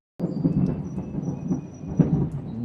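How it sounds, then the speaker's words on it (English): Thunder from a close lightning strike during a storm cracks in suddenly and then rolls on as a loud, sustained rumble, with rain audible beneath it. "Oh, that was big lightning."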